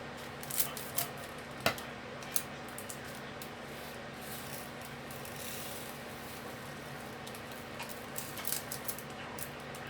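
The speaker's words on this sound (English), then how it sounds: "need to use scissors for this one." Scissors snip a few times up close during a diamond painting session, giving quiet, sharp cuts spaced across a soft, steady room hum with no talk.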